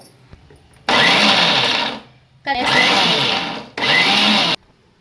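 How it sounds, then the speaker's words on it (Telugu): A kitchen mixer grinder whirs through three loud bursts of grinding chili powder with salt, each running about a second with short pauses between, the motor whine dominating the clip. "దీన్ని మనం మిక్సీ పట్టుకుందాం ఇప్పుడు."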